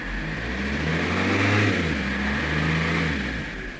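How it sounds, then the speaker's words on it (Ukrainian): A Fiat Doblo engine runs steadily nearby after its alternator belt idler pulley was replaced, a low droning hum that swells slightly in the middle and then settles back, with no voices. "Двигун я завів, не лякайтесь"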